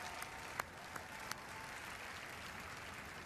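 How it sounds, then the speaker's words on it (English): Steady applause from an E3 audience, a dense patter of many hands clapping with a few sharper claps standing out, no voices on top. "Could I please have another round of applause"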